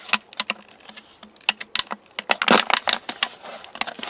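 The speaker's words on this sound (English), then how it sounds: "So we take our small bottle, cut off the label, and then we cut" A small plastic soda bottle is cut with scissors or a blade, giving a run of close, crisp snipping and crunching clicks, loud and irregular.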